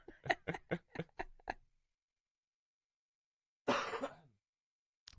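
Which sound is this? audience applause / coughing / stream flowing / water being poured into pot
coughing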